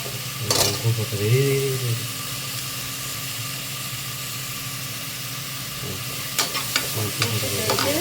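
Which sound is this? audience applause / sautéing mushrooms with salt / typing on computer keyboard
sautéing mushrooms with salt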